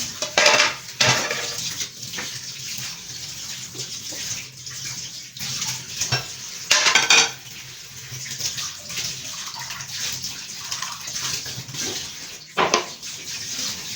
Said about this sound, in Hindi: मैं बर्तन वगैरह धो लूँ।